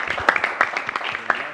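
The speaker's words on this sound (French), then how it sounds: "on applaudit pour notre ami Borel" A studio audience on a French-language talk show applauds a guest writer, a dense steady patter of many hands clapping at moderate distance, with a few sharper claps standing out over roughly a second and a half.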